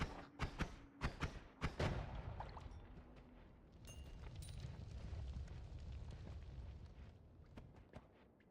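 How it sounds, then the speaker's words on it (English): Explosions erupt in the Noita video game: a quick series of sharp booming blasts early on, followed by a rolling, crackling rumble that fades slowly, loud and close with no one talking. "Hearing some big bada booms over here."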